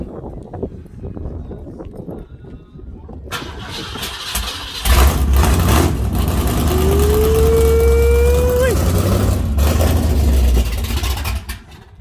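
A Dodge Charger Redeye with an MBRP Race profile exhaust fires up: quiet rustling, then a sudden loud start into a deep rumbling idle with a rising rev, close by, and a voice briefly audible in the background.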